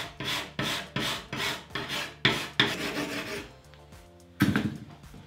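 A flat file rasps across the cutting teeth of a Honda HHH25D hedge trimmer blade in a run of even, close strokes, pausing briefly before one last stroke.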